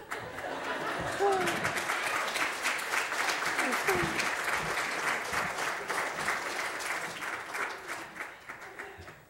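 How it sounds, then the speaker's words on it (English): Steady applause from a church congregation during a sermon, a dense wash of clapping that holds for the full length with scattered chuckles and murmured chatter mixed in. "Everybody give Raina a round of applause"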